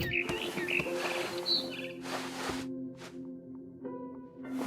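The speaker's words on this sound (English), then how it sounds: "Then I heard chirping outside my window. It was a barn swallow going back to her nest." Barn swallow chirps in What Remains of Edith Finch: a few short, bright tweets in the first seconds over a steady game ambience hum, with faint rustles and soft bumps.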